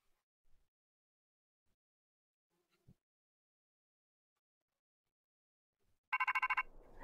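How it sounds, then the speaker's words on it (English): A phone call ringtone from the video game Pokemon Scarlet: after near silence with a couple of faint soft taps, a loud, rapid trilling electronic ring sounds in repeated bursts at the very end. "Alright, getting a phone call."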